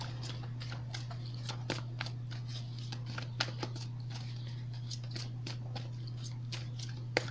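Steady riffling and soft slapping of tarot cards being shuffled continuously up close, over a constant low electrical hum.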